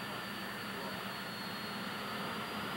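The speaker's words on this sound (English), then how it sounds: "an exhibition involving the jet cars, and the noise is absolutely incredible here" Jet-powered drag racing cars roar at a 1984 IHRA Summer Nationals exhibition. A steady, dense broadband jet roar continues without a break and sounds distant rather than close.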